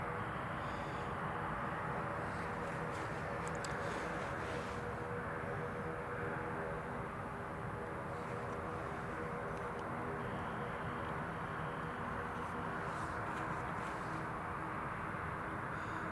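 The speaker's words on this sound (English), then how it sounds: "So we've got the Ryanair 73 that's just been clear for takeoff" A Ryanair Boeing 737 jet takes off from Newcastle International Airport, bound for Palma de Mallorca, giving a steady, loud, broadband engine roar that holds for the full stretch with no talk over it.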